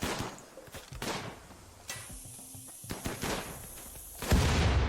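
Mortar fire in the video game Rimworld comes as sharp, loud thumps and bursts in quick succession, with a brief high whistle between shots, unaccompanied by talk.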